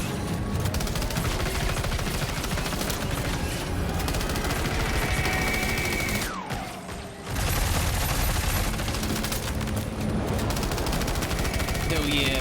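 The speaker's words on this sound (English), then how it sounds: "I'm gonna try the assault rifle." Sustained automatic assault rifle fire from Death Stranding 2 rattles almost continuously, broken by one short pause, with game effects and a speaking voice mixed in.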